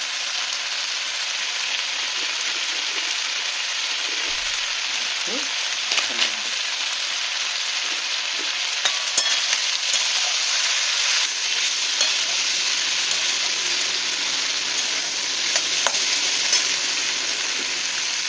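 Cumin seeds fry in oil rendered from fish for a fish-oil chorchori with greens and vegetables, a loud, continuous hissing sizzle with occasional stirring knocks and crackles close by.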